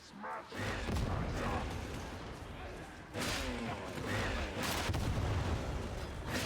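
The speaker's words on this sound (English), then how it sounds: "What, something keeps exploding. Yeah, I think it's the Ogryn keeps shooting at the enemies." Repeated booming explosions from an Ogryn firing at enemies in a video game, a dense, continuous barrage of loud bursts with several sharp onsets, mixed with voices talking over the action.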